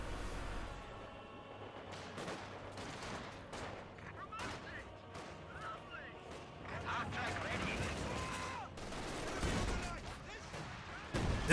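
An artillery barrage in Company of Heroes 2 pounds a structure, with repeated sharp blasts and rolling explosions in irregular bursts that grow denser and louder toward the end.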